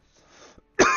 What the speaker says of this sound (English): I just got this cough